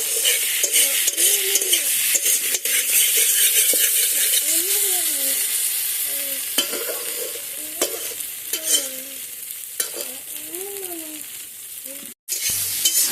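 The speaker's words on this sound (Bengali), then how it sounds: "এবার এটা কষানোর পালা, খুব ভালো করে কষাবো" Hilsa fish with wild taro being sautéed in a pan, loud constant sizzling with repeated scraping stirs of a spatula against the metal, continuing for a long stretch before a brief cut near the end.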